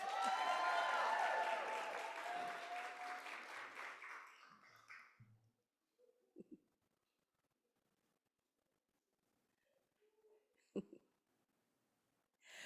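An audience applauds competition winners at an oratorical contest, a loud burst of clapping that fades out over several seconds, followed by near silence with a few faint knocks and shuffles.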